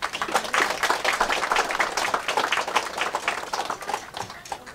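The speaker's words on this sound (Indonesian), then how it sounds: "Tepuk tangan untuk itu" Lively clapping from an audience at a New Year farewell-and-welcome gathering in Papua, dense and close, with rhythmic rising and falling bursts of hands for several seconds.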